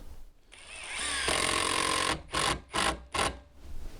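Power drill driving screws into a wooden deck railing, a loud close whir that climbs and holds, then several short trigger bursts as the screws seat slightly countersunk.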